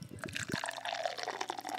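A sour ale poured hard from a can into a glass, with a brief low clunk and then a bright fizzing, splashing flow that carries on steadily.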